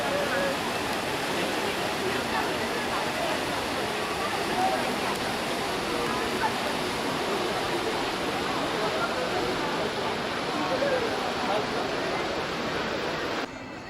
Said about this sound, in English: Fontana di Trevi